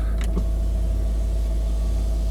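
A couple of faint clicks, then a Range Rover L322's one-touch electric window motor hums steadily in the cabin for the rest of the clip.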